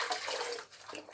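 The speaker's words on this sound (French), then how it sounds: "je rince plusieurs fois mon visage avec mon gant de toilette" Water splashes as a face is rinsed with a washcloth during an evening skincare routine, a brief close wash of running and sloshing water.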